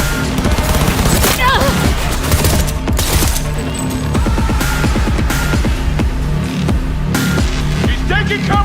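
Loud, continuous gunfire fills a Cyberpunk 2077 firefight, with rapid automatic bursts and booming shots stacking densely under game music and shouted voices.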